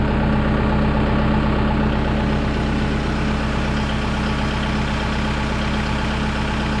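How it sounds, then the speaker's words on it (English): A Kubota M6060 tractor's diesel engine idles steadily and loudly nearby, with a faint vibration as the fuel pump primes and fills the filters; a constant low rumble continues throughout with no talking. "You can hear a little vibration in there where it's priming the pump,"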